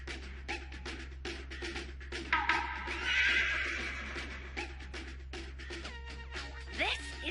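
An anime horse whinnies in a loud, drawn-out neigh with a rising, wavering pitch, followed by a few shorter snorts and a closing whinny, set over a steady low hum and faint clatter.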